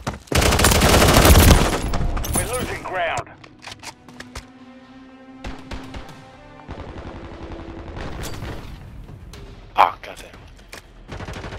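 Automated sentry gun fire in a Call of Duty match: a loud opening stretch of rapid shots gives way to scattered bursts and single reports, with a voice talking over the action.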